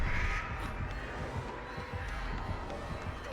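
Crows from the Artist killer in Dead by Daylight caw faintly and repeatedly over a dense, noisy game backdrop.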